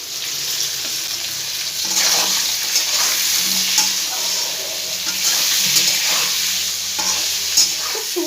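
Raw green banana sizzles and fries in a pan with salt and vegetables, a steady close hiss with occasional stirring scrapes throughout.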